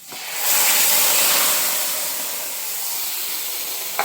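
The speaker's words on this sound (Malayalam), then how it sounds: "സാമ്പാർ നന്നായി തിളച്ചിട്ടുണ്ട്. നമ്മൾ വറവ് ഇതിലോട്ട് ആഡ് ചെയ്യാം" Hot tempering of fresh curry leaves hits boiling sambar with a sudden loud sizzle that swells, then settles into a steady hissing bubble before a faint clink at the end.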